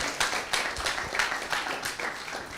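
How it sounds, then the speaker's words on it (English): Modest applause at a hackathon pitch session, with a small group clapping steadily at moderate volume and individual claps audible within the patter. "Huge applause for the team."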